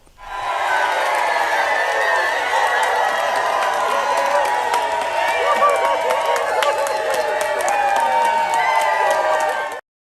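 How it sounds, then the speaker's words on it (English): A large studio audience applauds and cheers continuously, a dense roar of clapping mixed with whoops and crowd noise, loud and sustained for about ten seconds before cutting off abruptly. "Wouldn't that be great if we all can get applause like that"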